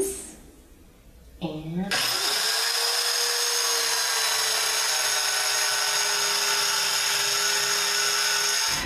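A power saw cuts a wooden bookend base guided along a fence: the motor spins up and then holds a loud, steady whine with a rough cutting rasp for several seconds, after a brief spoken word.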